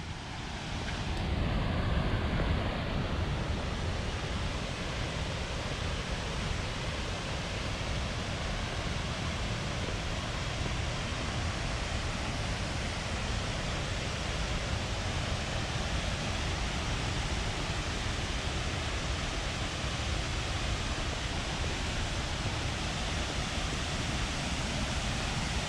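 Haew Suwat Waterfall in Khao Yai National Park, Thailand, heard as a loud, continuous broadband roar of falling water that stays steady and unbroken throughout.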